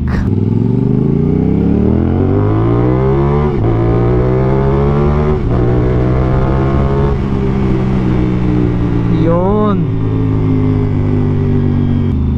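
A 2024 CF Moto 450SR-S motorcycle, a 270-degree crossplane twin fitted with an SC Project CR-T exhaust, revs loudly up through the gears in long rising pulls with brief drops between shifts, close and alone.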